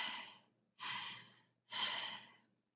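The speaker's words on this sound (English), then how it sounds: "Normal breathing would be something along the lines of," Normal human breathing demonstrated for emergency first-aid training: three calm, airy breaths with even pauses between them, close and quiet, with no talking.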